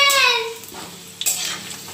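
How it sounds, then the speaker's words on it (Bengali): Potatoes fry in hot oil in a home kitchen, giving a steady close sizzle broken by a few stirring scrapes and clinks from the pan. "দেখুন আলু ভাজা হচ্ছে"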